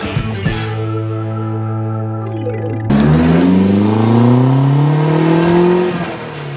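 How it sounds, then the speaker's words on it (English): A 1994 Saab 900 Turbo Commemorative Edition accelerates at wide-open throttle in third gear, its throaty exhaust note rising steadily in pitch after a brief idle-like hum, loud and close with no talking. "the car's in third gear, the throttle is wide open, and this turbo is struggling to put out its full amount of power"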